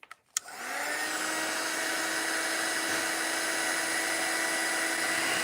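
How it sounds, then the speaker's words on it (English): A heat gun blows a steady, loud whoosh onto a thick blob of gel medium on an altered IKEA Christmas tree, starting after a brief click and holding an even, continuous roar throughout. "now I can use the heat gun to dry it"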